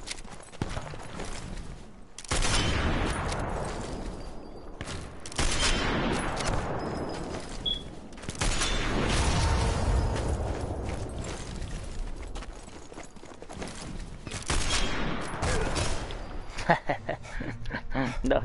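Video game gunfire: repeated bursts of shots and volleys crackle across a noisy, continuous game soundscape, with a player talking over the action.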